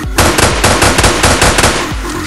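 Rapid bursts of machine gun fire in the browser first-person shooter UnderFire, loud, close and repeated in quick rhythmic volleys over a little more than two seconds.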